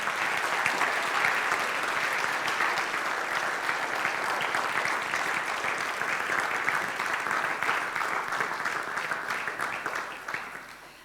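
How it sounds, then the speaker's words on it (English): An audience gives sustained applause for the first-prize winner at the Drawing of the Year 2016 award ceremony, a dense, even roar of clapping that holds steady for about ten seconds and then tapers off at the end. "So with this first prize, please give an applause to Hamdi Firas."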